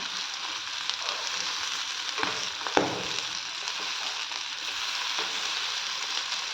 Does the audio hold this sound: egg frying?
yes